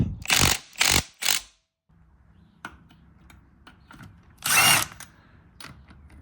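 An impact wrench breaks loose 17 mm bolts during a throwout bearing install, firing three quick loud bursts, then a lone burst a few seconds later over a low background rumble.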